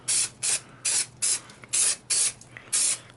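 Short bursts of spray adhesive from an aerosol can hiss in a rapid, even rhythm, about eight close sprays with brief pauses between, applied to a 2004-2008 Acura TL door panel insert.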